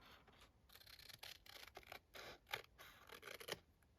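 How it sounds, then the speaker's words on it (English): Long scissors cutting a strip of paper from a junk-mail envelope at a craft table, a few short crisp snips and scratchy rustles, close and moderately quiet. "Get my long scissors."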